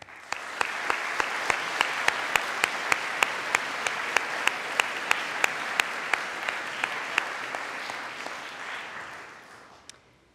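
A University of Manchester graduation audience applauding the parents, sustained dense clapping from a large hall crowd lasting about ten seconds, with several louder claps standing out close by before it dies down.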